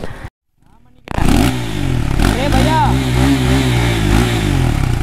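A motorcycle on a Ladakh road trip, one that had trouble starting, catches and runs loudly after a brief silence, its engine holding a steady rumbling drone close by while voices speak over it.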